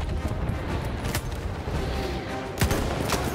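Gunfire in the Battlefield 1 campaign mission The Runner, with dense battlefield shooting throughout and a few sharper nearby shots standing out against the continuous din of combat.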